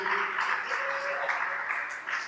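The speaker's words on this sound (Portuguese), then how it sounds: "aplauda bem forte ao Senhor Jesus" Church congregation claps steadily and loudly throughout, a dense wash of hands with a soft sustained organ-like tone underneath.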